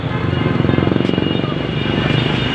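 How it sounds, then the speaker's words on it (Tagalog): Loud motorcycle engines rev together in an enclosed space, a dense, pulsing roar that fills the whole clip close by. "maiingay yung mga motor, nagpapaingay dito sa loob"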